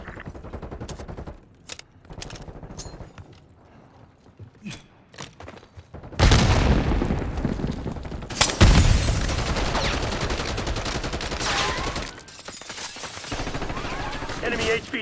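Gunfire in Call of Duty Black Ops 6 starts with scattered sharp single shots, then bursts into loud sustained automatic fire and heavy thumps over the second half, with a brief lull before more shooting.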